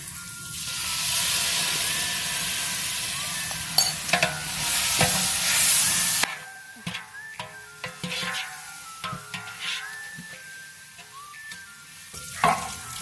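Beef masala sizzling loudly in a pan as curd is poured in for a Kerala-style beef dum biryani, a dense hiss that drops after the pour, followed by intermittent stirring clatter and softer bubbling.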